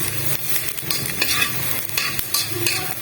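Beef fries in a pan with reddened onions, sizzling steadily up close while a utensil stirs and scrapes through it in repeated strokes, with no voices.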